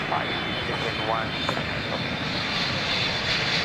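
Malaysia Airlines Airbus A330 airliner engines roar steadily at Adelaide Airport, a constant loud broadband rumble with a high whine, while voices talk over it.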